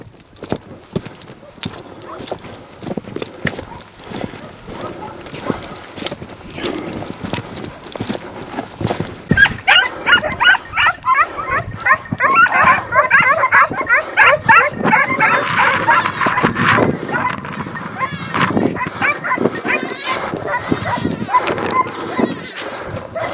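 Hunting dogs bark repeatedly over a busy outdoor scene during a hare hunt, with yips and whimpers mixed in and people talking intermittently nearby.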